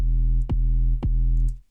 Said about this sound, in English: That's just the resonance being boosted and the note that I'm playing it at.